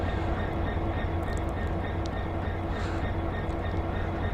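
Steady, continuous rumble of a train running in the Train Sim World video game, a dense mechanical drone with a faint hum and light clatter on top, loud and unbroken, with no talking.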